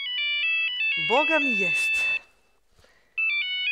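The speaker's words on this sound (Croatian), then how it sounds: "neko ima isto zvonu kao ja na mobitelu" A mobile phone plays a bright, repeating electronic ringtone during a musical comedy stage monodrama. The ringing stops while a voice speaks briefly, then starts again after a short pause.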